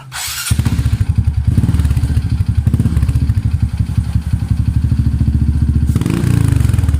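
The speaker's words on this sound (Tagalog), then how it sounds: "itry muna natin kung ano yung tunog ng motor or yung chicken pipe" A Honda XRM125 motorcycle engine idles and revs nearby, its full-fiber exhaust with silencer throbbing in a fast, loud, steady putter that swells as the throttle opens.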